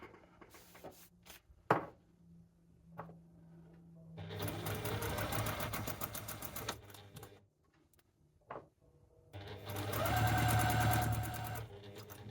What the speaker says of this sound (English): I've sewn all the way through that first seam.